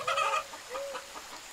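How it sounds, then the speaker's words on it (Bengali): Several roosters crow sharply close by as a sound effect in a Bengali audio story set in a Malayan jungle, one loud burst of calls followed by a softer, drawn-out crow, with no talking. "কাছেই কোথাও 4-5টা মোরগ ডেকে উঠল তীক্ষ্ণ গলায়।"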